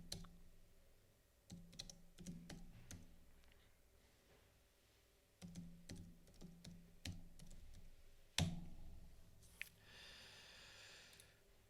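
Quiet bursts of typing on a computer keyboard in a terminal, scattered clicks in uneven runs with pauses and a louder thump partway through.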